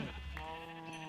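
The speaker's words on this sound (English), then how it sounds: "Oh no, I killed a sheep." A Minecraft sheep lets out a single wavering, nasal bleat as it is killed, close and clear, with a harmonic-rich cry lasting about a second and no talk over it.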